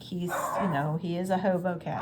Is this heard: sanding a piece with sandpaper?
no